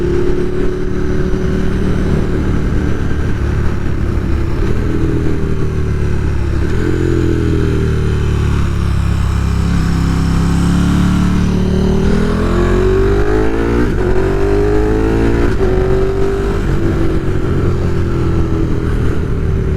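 A KTM dirt bike with an Austin Racing V3 Mini slip-on exhaust runs loud and steady nearby, revving up and down through several rising and falling pitch sweeps with a raspy exhaust tone.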